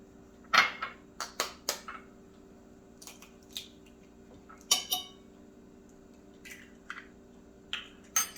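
Eggs cracked one at a time into a separate small bowl while making flan in a kitchen, giving sharp, scattered clinks and taps against the bowl with quiet pauses between them.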